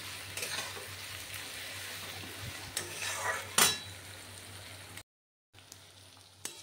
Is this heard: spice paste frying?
yes